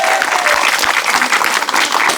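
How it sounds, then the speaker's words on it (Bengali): Audience applause for a contestant at a lively game competition: a dense, steady burst of clapping from many hands that fills the whole moment, loud and close with no pause. "আনাচে কানাচে আমাদের এই প্রতিযোগীর জন্য জোরে করে একটা করতালি হয়ে যাক।"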